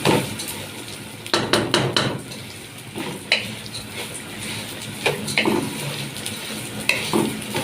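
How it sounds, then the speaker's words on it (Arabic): Vermicelli and rice toast in hot oil in a pot for Egyptian koshari, a steady close sizzle with repeated scraping stirs and spoon clinks against the pan, no talking. "عايزاه يتحمص شويه في قلب الزيت"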